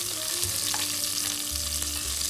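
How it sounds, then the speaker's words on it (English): Chopped onions hit hot oil in a pot with curry leaves and dried red chilies, giving a steady close sizzle and crackle with a faint stir, no voices. "You can hear the sizzle, and that tells you that our oil is nice and hot"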